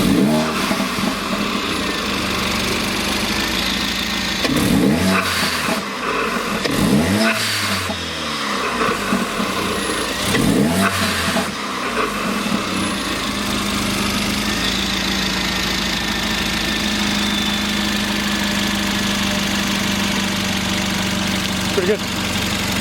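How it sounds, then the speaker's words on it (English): A straight-piped Mercedes CLA45 AMG engine idles with a loud, raspy drone and is revved hard three times in a row, each rev rising and falling sharply before the car settles back to a rough idle. "give her some throttle"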